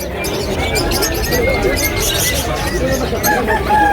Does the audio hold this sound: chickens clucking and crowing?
yes